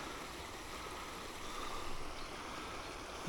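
A stream with a healthy flow runs steadily at a fishing spot, a constant broadband rush of moving water heard alone at moderate, even loudness.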